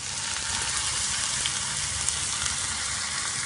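Water poured into a pan of frying onion and tomato masala for butter chicken, giving a steady close sizzle and hiss that holds evenly throughout with no talk.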